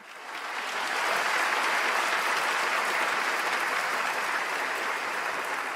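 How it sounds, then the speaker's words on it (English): Applause swells up within the first second into a steady, dense wash of many hands clapping, then holds at an even level for several seconds with no voices over it. "Now the applause can commence."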